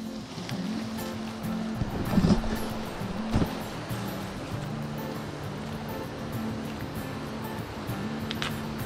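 A stream runs steadily near Angel Falls, a continuous rushing, surf-like wash of water heard close and fairly loud, with a few heavier splashes and gusts breaking through.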